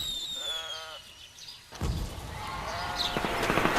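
A bleating animal cries out a few quavering notes, and then a dull burst of noise overtakes it and lingers with a mixed background clamor.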